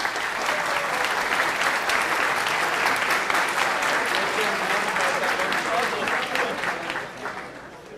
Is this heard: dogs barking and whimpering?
no